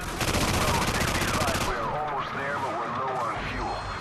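Call of Duty 4 gunfire: a rapid automatic burst rattles loudly for about a second and a half, then gives way to scattered shots and chaotic battle noise with shouting voices.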